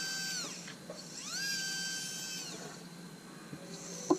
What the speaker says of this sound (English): The ball bar that I'm using in the Handy 700 micromotor handpiece